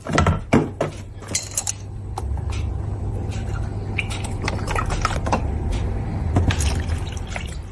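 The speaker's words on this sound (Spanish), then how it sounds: "Y seguimos mezclando para que no se pegue" Utensil scraping and stirring in a pot of thickening béchamel made with milk, for a Venezuelan pasticho lasagna, with intermittent clinks and knocks over a steady low stovetop hum.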